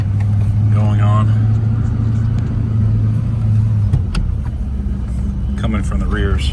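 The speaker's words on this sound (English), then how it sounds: "Sounds like it's got a little brake drag" A 1990 Ford Mustang SSP Fox body drives with its rear brakes dragging, bald and underinflated front tires, producing a low engine drone and road rumble while people talk over it.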